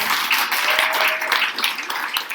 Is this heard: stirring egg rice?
no